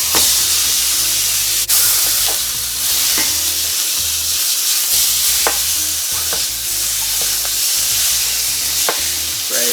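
Beef frying in its own rendered fat in a dry pan, a loud, steady close-up sizzle with bursts of hiss and spatter and a few sharp clicks, with no talking.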